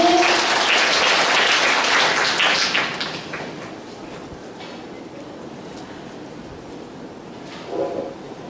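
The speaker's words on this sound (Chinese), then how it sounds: "掌声有请点传师" Applause fills a temple inauguration ceremony at a newly built Buddhist hall in Jiali, loud and dense for about three seconds, then thinning to scattered claps and quiet room noise, with a brief knock near the end.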